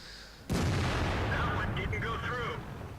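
A tank cannon fires in World of Tanks during a T110E5 battle with a sudden loud boom, followed by a sustained rumbling roar and clatter of battle noise, with faint talk faintly underneath.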